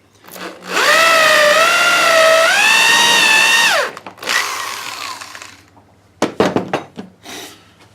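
Power drill boring a 3/8-inch hole while building a saw blade sharpener, one loud whining burst lasting about three seconds with pitch dipping under load, then winding down, followed by knocks and handling clatter.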